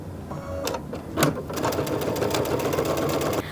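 A sewing machine stitching a quilt at a quarter-inch seam, a steady close mechanical whir with a fast rattling needle rhythm, running continuously without speech.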